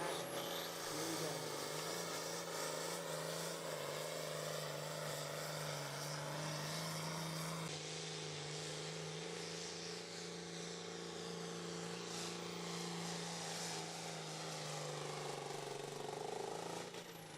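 A top-running pulling tractor at a southwestern Pennsylvania outlaw truck and tractor pull, its engine roaring loud and steady throughout the run, a constant droning wall of engine noise with a shift in tone partway through.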